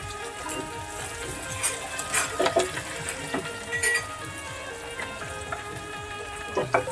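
Chopped onion frying in a pan for mutton curry, a soft continuous sizzle with intermittent stirring scrapes and clinks, close and moderately loud, no talking.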